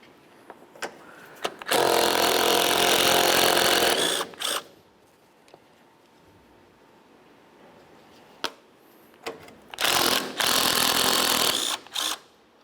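A power tool spins off the 13mm strut mount nuts on a 2005-2010 Chevy Cobalt in two loud bursts of about two seconds each, close by, with short clicks and taps between them.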